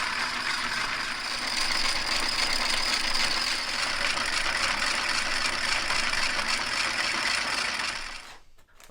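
A 2x72 belt grinder spins an empty stone wash knife tumbler, giving a steady whirring, rattling mechanical drone close up that runs unbroken for about eight seconds before cutting off abruptly.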